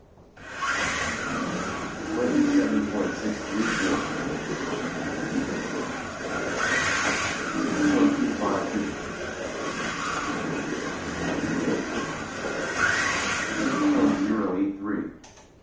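A vintage Monogram 1/24 slot car with a Ferrari body runs laps on a track, a steady whirring motor hum that rises and fades in repeating passes, with a voice talking faintly at times.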